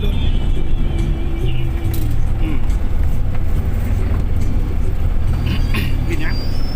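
A vehicle driving on the Kasi to Meuang Nan road in Laos, with steady engine and road rumble up close throughout and a person talking over it.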